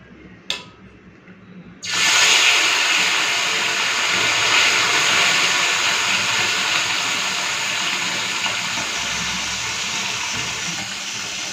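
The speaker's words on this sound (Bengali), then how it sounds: "চলুন এখন মাছগুলো ভেজে নিই।" Mourala fish frying in hot oil, a loud steady hiss and sizzle that bursts in after a brief quiet start and continues unbroken, with no voices.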